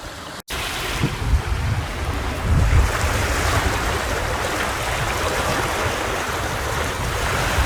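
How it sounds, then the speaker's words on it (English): Steady wind roars over a sailing boat running downwind at sea, with broad rushing noise, water wash and some microphone buffeting, loud and continuous throughout with no voices. "Well, we're going downwind. Blowing now, it's blowing a bit harder now."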